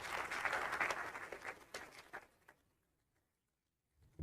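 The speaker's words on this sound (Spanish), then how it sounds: "Un fuerte aplauso, por favor." Audience at a forum panel gives a short round of applause, brisk clapping that thins out and stops after about two seconds, leaving near silence before a faint thump.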